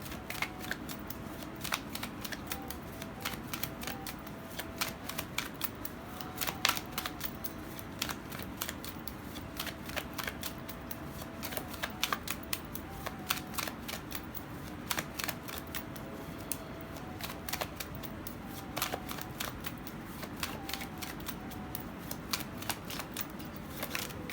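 Tarot cards drawn and shuffled for a reading, a steady run of crisp card snaps and riffling clicks going on throughout, close and fairly quiet with no talking.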